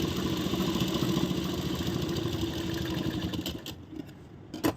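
A sewing machine runs steadily, stitching the bottom hem of a blouse. Its close, even mechanical whir continues for several seconds, then slows and stops, leaving a few soft clicks.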